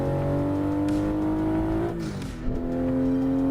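Engine of a vehicle in American Truck Simulator, a steady droning hum with a shifting pitch that drops and resettles midway, as if changing gear, heard alone and close.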